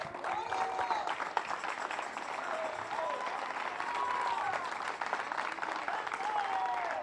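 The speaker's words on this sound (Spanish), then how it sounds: "Vamos a dar palmas de alabanza al Señor." Steady applause from a congregation at an evangelical church campaign in Valdivia, Chile, dense sustained clapping under a singing or preaching voice with a reverberant hall feel throughout.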